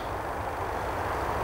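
Distant road traffic forms a steady, even rumble of engine and tyre noise from an outdoor woodland spot, with no distinct vehicles standing out.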